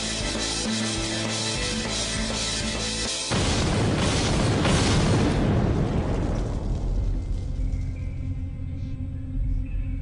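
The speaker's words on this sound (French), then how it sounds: "L'explosion libère une énergie de 33 millions de joules." A dynamite blast in a bank heist sets off a massive, roaring burst that swells into dense rumbling noise and slowly decays over several seconds, heard alone without voices.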